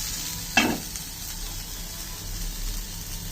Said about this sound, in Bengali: তো এখানে কাঁচামরিচ, রসুন, পেঁয়াজ এগুলো একটু ভেজে নিচ্ছি।